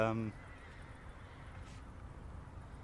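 At the start, a horse near an airfield at Toulouse gives one short, fairly clear whinny, followed by quiet outdoor background noise.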